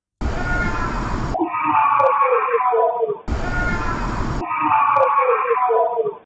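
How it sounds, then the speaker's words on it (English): A loud, shrill scream plays twice in succession, each time breaking off into muffled, crackling background noise as if from a recording. "But does that scream sound familiar?"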